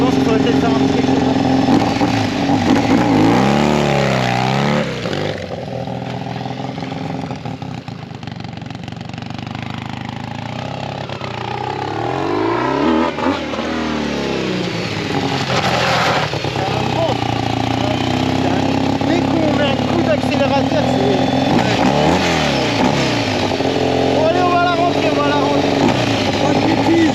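A 750cc motorcycle being converted from supermoto to motocross revs hard and close, its engine held high in the rev range with repeated rising and falling sweeps over nearly half a minute, and a voice comes through at times.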